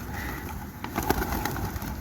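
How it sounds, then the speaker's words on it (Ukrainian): Pigeons coo softly outdoors against a steady rumble of background noise, with no talking. "Там площадка, це треба голубів кормити."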